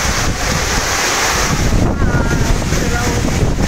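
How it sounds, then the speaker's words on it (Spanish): Strong wind roars across the microphone with rushing, splashing water and spray at the Mili Mili waterfall, loud and continuous throughout. "Oye, hay un viento y el agua te moja."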